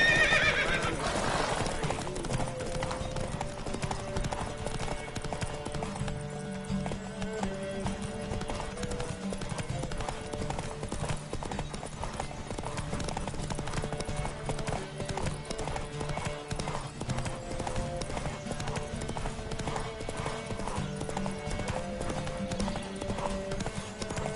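Horse hooves galloping in a steady clip-clop rhythm through a race in The Witcher 3, with a sharp neigh near the start and light game sounds underneath.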